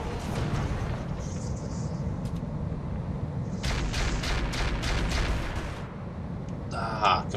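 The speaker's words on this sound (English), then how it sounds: "It's all ballistic weapons. Rotary and ultra stuff by the looks of things." Rapid ballistic autocannon fire from rotary and ultra autocannons in the RogueTech mech game, a dense burst of repeated shots in the middle of the clip over a steady low rumble of battle noise.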